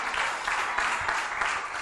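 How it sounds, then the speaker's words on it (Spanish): A church congregation claps in a steady, dense wash of applause that fills the space evenly, moderately loud and without a break. "Vamos, levanta tu aplauso."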